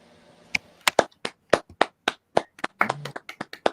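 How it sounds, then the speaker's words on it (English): A few people clapping sparsely and unevenly, with distinct separate claps in an irregular rhythm rather than a full wash of applause, fairly close and quiet. "Everybody, give a round of applause for yourselves."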